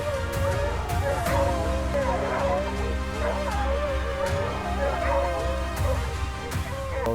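Hunting hounds bay and yip while chasing a hare across a mountain valley between cliffs, continuous overlapping barks over a steady outdoor rumble.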